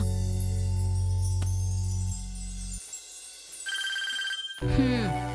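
A telephone rings in a Tamil TV serial scene, a steady electronic ring that holds for about two seconds and then stops, followed by quieter room sound and a brief tone.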